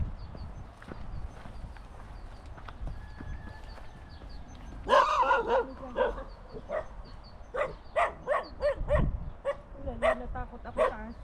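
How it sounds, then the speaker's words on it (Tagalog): A dog outdoors in the Kidron Valley near Jerusalem barks in a rapid series of loud, sharp barks that start about halfway through, following quieter background sound and faint voices. "natakot ako sa aso"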